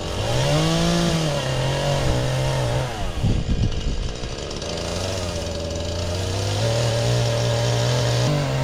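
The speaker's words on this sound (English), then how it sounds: "Got the wife over there running the chainsaw, doing some cleanup right now from our big mess that we have." A Husqvarna 435 chainsaw runs steadily close by through the whole stretch, its engine pitch dipping and rising as it cuts into wood during storm cleanup.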